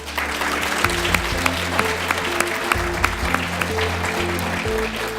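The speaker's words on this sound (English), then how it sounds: "if you would please join me in a warm round of applause" At the close of a BC tourism headquarters panel discussion, a room of attendees gives a warm round of applause for the speakers and moderators, clapping steadily for several seconds beneath a sustained musical tone.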